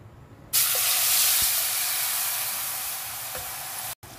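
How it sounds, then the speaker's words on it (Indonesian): Ground onion hits hot oil left over from frying anchovies, bursting into a loud, steady sizzle that holds close and constant until a brief cut near the end. "Kita tumis dia."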